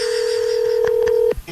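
A phone emits a long steady dial tone, then a quick series of short keypad tones as a number is dialed, loud and close with no talking.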